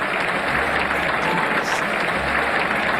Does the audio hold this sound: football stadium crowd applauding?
yes